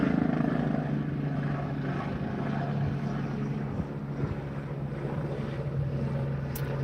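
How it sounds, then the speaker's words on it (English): A helicopter hovers overhead, its steady low rotor drone filling the clip continuously at moderate loudness with no one speaking. "so you hear the helicopter, as the helicopter sits above me"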